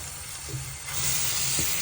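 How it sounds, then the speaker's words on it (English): Tap water runs steadily over a wig as bleach is rinsed out, a broad rushing hiss that grows fuller partway through with small splashy changes. "So we're gonna just put it under the water."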